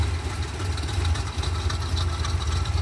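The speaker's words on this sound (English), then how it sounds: "Now we can actually hear this thing idle." Chevy small-block 350 V8 idles steadily, a close, loud, even low rumble with a slight rhythmic chug and no one talking over it.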